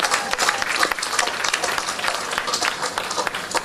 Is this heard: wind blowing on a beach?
no